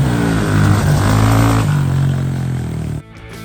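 A Honda CRF110 dirt bike fitted with a big wheel kit revs up and down loudly at close range around a shop, its buzzing single-cylinder note rising and falling, then suddenly cutting lower.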